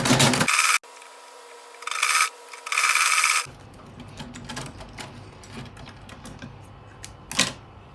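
A sewing machine stitches an organza ruffle sleeve in three short mechanical whirring bursts, the longest near the end, with quieter light handling and rustling of fabric between them.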